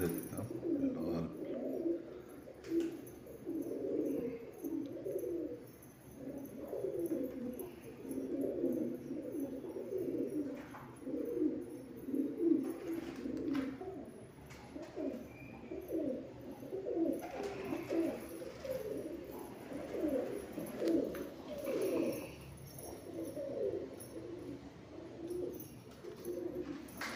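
High-flying Madrasi pigeons coo steadily in a continuous, overlapping chorus, close and moderately loud, with no talking.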